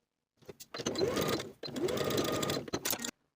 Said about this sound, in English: Sew with a 3/8 inch seam allowance and press the seam open.